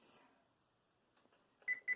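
An oven timer being set gives two short, high electronic beeps near the end, close and clear, after quiet handling sounds.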